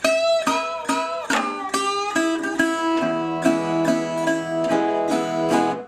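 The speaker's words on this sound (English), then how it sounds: "So this is the predominant way to play this, the signature lick." A signature blues lick played on slide guitar: sharply plucked, ringing notes with sliding pitch bends, a rhythmic run of strikes over sustained droning strings, close and clear with no voices.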